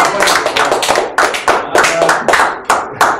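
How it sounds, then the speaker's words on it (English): A meeting audience at a Toastmasters-style club session in Makati breaks into a round of applause, with distinct, fairly close hand claps rising and pulsing in several bursts over about three seconds. "Big round of applause."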